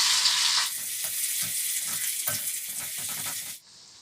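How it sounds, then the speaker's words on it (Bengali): Cumin seeds, green chillies and garlic hit hot oil with a loud, bright sizzle that flares at first, then settles into a steady crackling fry with small pops, dropping away abruptly near the end. "তেলটা গরম হয়ে গেছে, এর মধ্যে আমি দিয়ে দেবো জিরে, কাঁচা লঙ্কা,"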